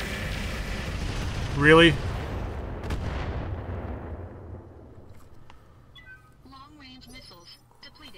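Heavy mech weapons fire in the video game Roguetech, a deep booming blast followed by a long rumbling decay, with a short voice line and faint electronic interface blips toward the end.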